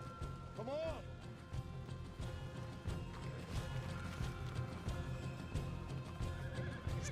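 Horses being set free in Red Dead Redemption 2, with a neigh early on, then clip-clop hooves and scuffling under continuous game ambience; voices chatter in the background.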